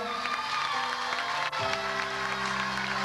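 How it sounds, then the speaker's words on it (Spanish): Audience applause and cheering at a patron saint festival honoring a young chamberlain, a steady crowd roar over sustained music tones. "Un fuerte aplauso."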